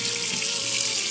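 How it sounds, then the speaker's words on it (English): Cold tap water runs steadily in a kitchen sink while quinoa is rinsed, a continuous close hiss and splash throughout. "So you should always rinse your quinoa in cold water"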